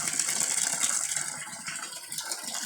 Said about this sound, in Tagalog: tubig nga nagbusagak nga walay bayad